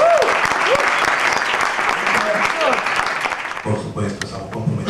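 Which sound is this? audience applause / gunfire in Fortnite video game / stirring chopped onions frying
audience applause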